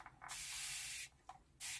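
Bursts of warm-to-hot water from a spray bottle misting onto natural art paper, two loud hissing sprays, one long and one short, with a faint tap between them and no talking.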